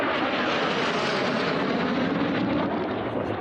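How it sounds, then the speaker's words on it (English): A racing airplane roars steadily past at a Nevada air race, a loud, continuous broadband engine drone filling the whole moment without fading. "Beautiful airplane against this crystal clear blue Nevada sky we have here today, Tommy."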